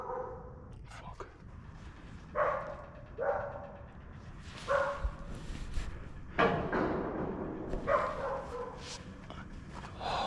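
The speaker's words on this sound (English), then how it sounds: "but it's just a nice dog." A dog barks in a series of short, sharp yips and woofs, roughly six bursts spread unevenly over about ten seconds, fairly close and moderately loud against a noisy background.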